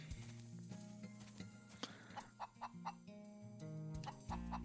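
Chicken clucking in the video game Wild Arms 3: a few short clucks over background game music and sound effects, fairly quiet.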